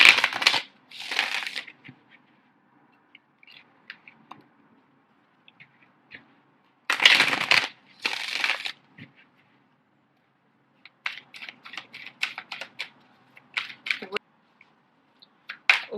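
Tarot cards riffled and shuffled for a reading, in a few short papery bursts: two louder flurries near the start and middle, then a scatter of quieter taps and flicks.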